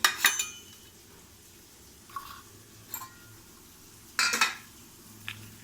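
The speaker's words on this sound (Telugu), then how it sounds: "ఎల్లిపాయలు, కొద్దిగా కారము, పసుపు, ఉప్పు 3 వేసి దంచేసుకుందామండి" Garlic and onions are pounded with chili powder, turmeric and salt in a kitchen, heard as a few separate sharp clinking knocks spread out over several seconds against a quiet background, with no talking.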